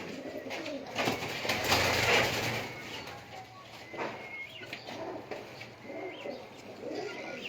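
A rooftop pigeon coos in soft, repeated low calls at close range over faint background noise, with a brief voice in the middle.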